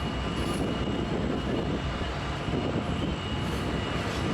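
A long freight or passenger train rolls around Horseshoe Curve, giving a continuous, dense rumbling roar that holds steady throughout with no voices.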